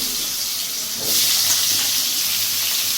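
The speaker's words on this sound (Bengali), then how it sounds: "এবার আমি আলুটা একটু হালকা করে ভেজে নেব।" Potato pieces frying in mustard oil in a kadai, a steady close hiss that jumps louder partway through as the sizzle intensifies, with no talking.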